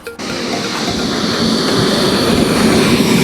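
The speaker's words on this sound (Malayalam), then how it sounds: "ഇതൊരു മെട്രോ പോലെ സെറ്റപ്പിൽ വർക്ക് ചെയ്യുന്ന ട്രെയിനാണ്." A metro-style commuter train in Gdansk, Poland rolls along with a steady, close rumbling roar and faint rhythmic clatter of wheels on track, continuous from just after the start, with no voices.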